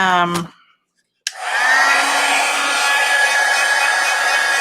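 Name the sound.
craft heat dryer running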